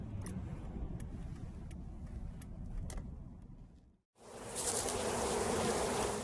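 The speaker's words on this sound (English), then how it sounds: "We probably got about 1 million bees over here." A dense swarm of bees buzzes loudly and continuously, dropping out briefly before returning even louder and closer.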